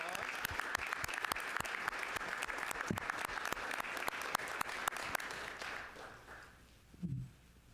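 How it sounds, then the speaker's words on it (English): Applause at a school board of education meeting for a recognised student: sustained clapping from a modest group, steady and fairly distant, tapering off after about six seconds, followed by a brief voice. "Let's give Rachel a round of applause."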